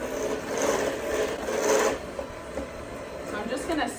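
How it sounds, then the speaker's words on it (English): A silicone spatula scrapes coffee cake batter from the edges of a mixing bowl, a steady close rasping and rubbing that swells and eases in strokes with no pauses. "I'm just gonna stop and scrape the edges just to keep everything low so I can continue to mix it properly"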